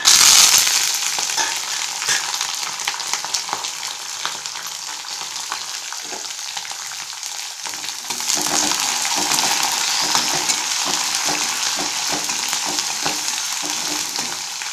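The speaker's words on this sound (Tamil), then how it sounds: "இந்த வறுப்படும்போது" Peanuts and curry leaves fry in hot oil in a pan, giving a loud, steady sizzle with occasional stirring scrapes that continues throughout, with no talking.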